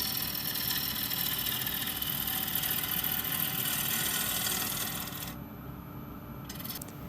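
A woodturning lathe cuts waste off the outside corners of a bowl with a continuous loud, harsh whirring hiss. It eases off slightly near the end, when the cutting seems to stop.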